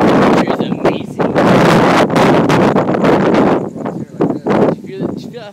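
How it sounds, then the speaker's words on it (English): Strong gusty wind during an Arizona thunderstorm buffets the microphone with loud, roaring, rumbling bursts that ease briefly near the end, while people talk excitedly close by. "Did you feel that force of that wind? How strong that thing is?"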